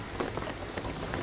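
Steady rain falls in the video game Shadow of the Tomb Raider, a dense, even hiss of drops on surfaces with no voices over it.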